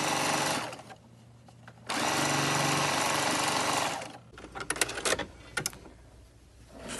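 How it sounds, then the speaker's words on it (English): A sewing machine stitching binding strips onto a vintage quilt runs in two steady, close whirring bursts, separated by pauses, then a few quick clicks and short stitches. "I've made the binding strips and now I'm going to sew them following that first folded edge."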